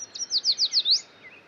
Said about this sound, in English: Yellow warbler.